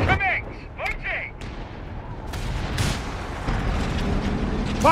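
Gunfire and artillery in the World War II strategy game Company of Heroes 3: sharp gunshots and deep booming blasts crack over a dense battle din, with soldiers' voices shouting in the mix.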